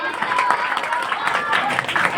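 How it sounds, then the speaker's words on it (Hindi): An audience claps through a Hindi poetry recitation, dense, steady and fairly close, with voices and crowd murmur mixed in. "वाह भाई वाह, बजाओ तालियां।"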